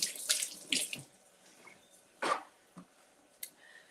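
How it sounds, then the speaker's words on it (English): A measuring cup rinsed under a running kitchen tap, several short splashing bursts of water, close and fairly quiet, separated by gaps with small drips and clinks. "let me give this a little rinse"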